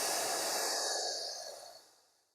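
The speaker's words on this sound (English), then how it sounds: "make that exhalation last as long as possible" A long, slow exhalation during a calming breathing exercise, a soft steady breathy hiss close to the microphone that gradually fades away over about two seconds.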